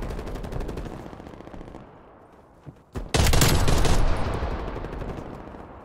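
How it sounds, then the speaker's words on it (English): Gunfire and a flashbang grenade in the Call of Duty Black Ops Cold War video game: a rapid burst of shots, then a sharp loud bang at about three seconds followed by a sustained bright ringing blast and continued firing. "Flashbang going out."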